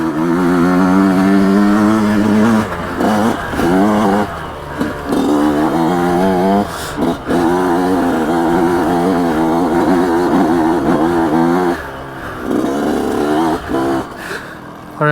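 A Yamaha YZ125X two-stroke dirt bike engine revs in second gear on a difficult off-road section, loud and close, its pitch rising and falling continuously with a few brief dips in throttle.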